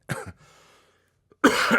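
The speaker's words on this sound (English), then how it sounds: "So I'll cough from now and then, every now and again" Two coughs from someone with a lingering flu: a short double cough at the start, then a quiet pause and a louder, sustained harsh cough-like burst near the end, close to the mic.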